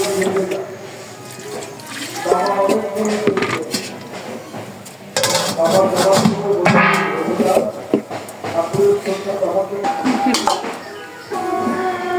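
Dishes and utensils clink and clatter in frequent bursts while a bhog food offering of boiled vegetables is arranged for Gopal, with a voice talking intermittently over the kitchen clatter.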